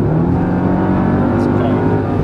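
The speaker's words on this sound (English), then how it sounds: "the steering even goes light because the car launches so hard" A Mercedes-Benz E55 AMG launches and accelerates hard, its engine a steady loud roar filling the low end throughout, with someone talking over it from inside the car.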